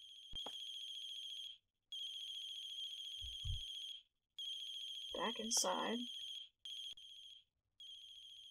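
A phone ringing in the horror video game The Closing Shift, a steady electronic ring in repeated bursts with short gaps, with a brief low thud and a short spoken phrase over it.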